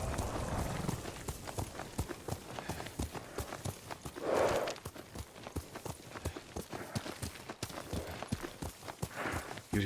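A horse's hooves clip-clop in a steady walking rhythm in the Ghost of Tsushima video game, quiet and moderately close, with a couple of louder soft thumps along the way.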